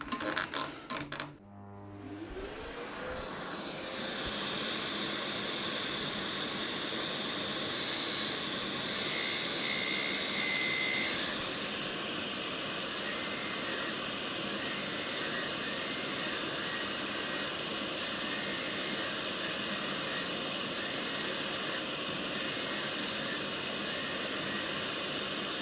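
A grinding wheel cuts into steel while sharpening a tool for a spline-drive coupler, giving a steady, loud high-pitched whine with a broad hiss that runs without a break, its shrill tones rising and falling slightly as the cut changes.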